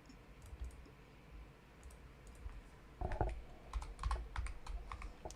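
Keystrokes tapping on a computer keyboard during a live online game session, sparse light clicks at first, then a denser burst of typing from the three-second mark, close and fairly quiet.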